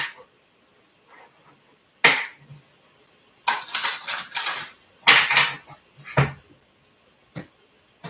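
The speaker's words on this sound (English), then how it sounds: "One more shuffle." Several bursts of crisp riffling and slapping as an oracle card deck is shuffled nearby, with quiet pauses between them and no talking.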